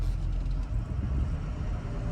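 A Ford Excursion Limited with a 6.0L Powerstroke diesel and 4WD is driven at a steady pace, giving a low, even interior rumble of engine and road noise that stays faint with no talking.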